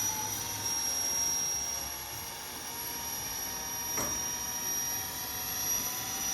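A 3D-printed Boeing X-32 RC jet model spools up outdoors, its turbine whine holding a high steady pitch at moderate distance, with a brief swell midway.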